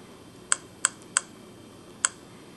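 Four crisp, close key taps on a handheld PC's keypad, spaced irregularly over a quiet background with no talking.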